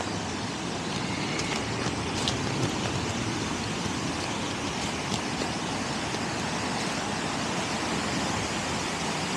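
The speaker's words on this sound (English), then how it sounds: "Look at that waterfall." A waterfall on the Bronx River roars steadily, a broad unbroken rush of falling water with no voices over it.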